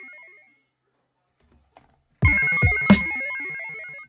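A Donner Essential L1 synthesizer plays a one-shot: after a faint tone and near silence, a bright ringing note strikes suddenly with a few buzzy pulses, then sustains and slowly fades.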